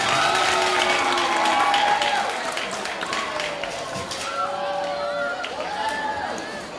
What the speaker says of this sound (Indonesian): Tepuk tangannya mana teman-teman untuk ketiga paslon kita hari ini